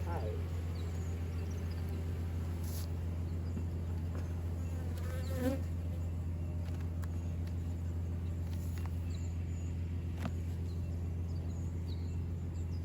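Honeybees buzzing around an open hive during a beekeeping inspection, a dense steady drone filling the whole span with a few individual bees passing close, over a constant low hum.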